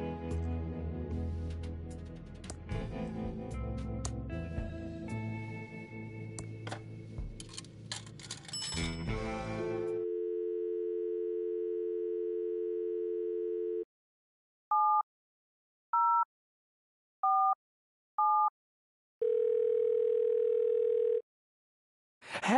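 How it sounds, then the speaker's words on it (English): A payphone in the Thimbleweed Park game gives a steady dial tone after some busy game sounds, followed by a few short beeps and a second brief tone, clean and close. "It's a payphone. Insert dime to make a call."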